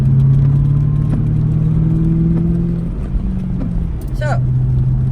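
Steady car engine hum and road rumble from inside the cabin while driving, loud and continuous throughout, with a brief high whine near the end.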